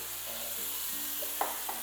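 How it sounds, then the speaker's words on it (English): Steady hiss of onion sizzling in a hot pan, with a couple of brief clicks and scrapes from stirring near the end. "Oh, I like the sizzle."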